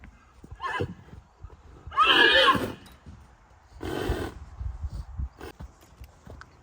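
A stallion whinnies loudly twice, shrill and close, with hoof clops and shuffling around the calls, near a mare during mating.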